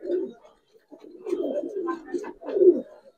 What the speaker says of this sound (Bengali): বাইরে সাপচিলা কবুতর দেখেন,